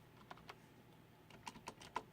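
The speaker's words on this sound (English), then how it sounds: "sorry for typing with one hand here." Scattered, quiet clicks of a computer keyboard being typed on with one hand, coming in irregular single keystrokes and short bursts.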